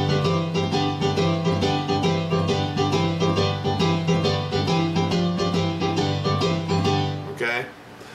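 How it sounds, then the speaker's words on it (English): Piano playing the intro of a song, a bouncy rhythmic pattern of chords over a bass line, close and steady for about seven seconds before it cuts off, with a brief noise at the end. "it's a fun and kind of iconic sounding little piano intro"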